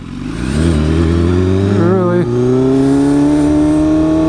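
A 2016 BMW S1000RR Premium motorcycle with an SC Project exhaust, ridden on the way to a golf course. A loud, close engine note climbs through the gears with a brief dip at a shift, then holds a steady high drone.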